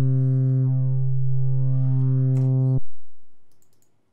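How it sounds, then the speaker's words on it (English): A steady synthesizer sine wave tone holds for nearly three seconds with a buzzy harmonic edge, then cuts off abruptly into a faint fading tail. "This is the sine wave form, right here."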